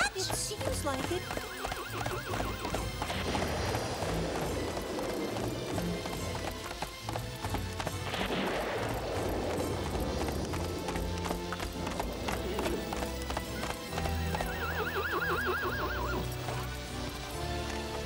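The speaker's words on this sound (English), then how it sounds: "I found another horse!" Horses whinny and neigh over steady clip-clopping hooves, with busy background sound and some voices mixed in throughout.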